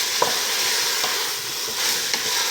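Garlic and vegetables sizzle and crackle steadily in a hot pot for beef stew, close and loud, with a few light spoon scrapes and stirring taps breaking through the constant frying hiss.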